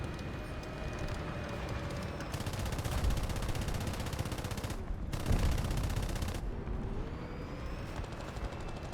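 A turret firing in a video game: rapid automatic bursts of gunfire in two long strings separated by a short pause, over a steady engine rumble.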